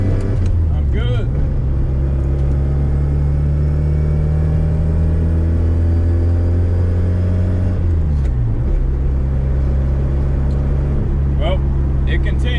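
A Mazda RX-7 FC3S engine runs at light throttle while driving, with a loud, steady low drone whose pitch climbs gradually, drops sharply near the eight-second mark, then settles. No voices are heard.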